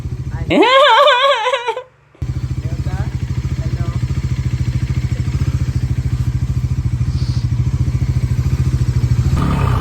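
A motorcycle just refuelled with petrol runs close and loud in a steady, even idle, with a short, loud, wavering tonal call near the start before the engine drone carries on alone.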